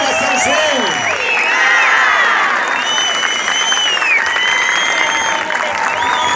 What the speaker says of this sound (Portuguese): Vamos dar, gente, uma grande salva de palmas.